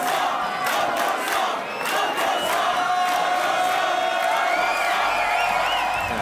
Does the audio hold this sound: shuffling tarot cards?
no